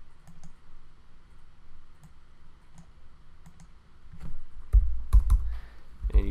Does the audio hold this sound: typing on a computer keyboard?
yes